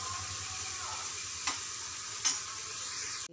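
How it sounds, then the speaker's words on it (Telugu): Onions fry on a medium flame for mutton curry, giving a steady close sizzle of hot oil broken by two short scraping strokes of a spoon stirring the pan. "స్టవ్ మీడియం ఫ్లేమ్లో పెట్టి ఇలా మధ్య మధ్యలో కలుపుతూ వేపుకోవాలి ఉల్లిపాయలు"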